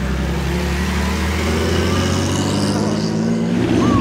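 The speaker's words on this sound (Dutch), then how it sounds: "Prachtige Alfa Romeo." Vintage Alfa Romeo race car number 44 on the Mille Miglia road rally in Italy, its engine droning steadily and loudly as it drives past, with rising pitch and a closer swell toward the end.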